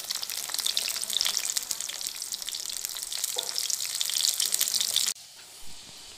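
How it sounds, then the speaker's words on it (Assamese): Pointed gourd (potol) slices fry in a pan with a dense, steady crackling sizzle close by, which cuts off abruptly near the end and leaves a quiet room. "পটলখিনি অকণমান সময় মই ফ্ৰাই কৰি লৈছোঁ।"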